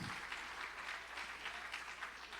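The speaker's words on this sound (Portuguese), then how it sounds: "Dá um aplauso a Deus pela vida desses músicos" Church congregation applauding the worship musicians during a service, a soft, fairly distant spread of many hands clapping in a steady sustained wash.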